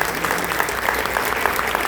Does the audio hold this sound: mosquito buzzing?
no